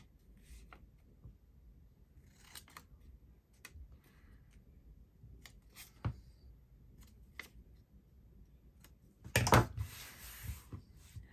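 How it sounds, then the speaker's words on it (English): Scissors cutting paper for a handmade notebook, a quiet, close series of irregular snips and rustles, followed by a louder burst of paper handling. "I'm cutting very crooked here."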